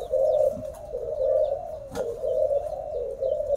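Pigeons in a loft coo in soft, repeated low throaty calls, close by and steady, with a brief sharp clatter partway through and no speech.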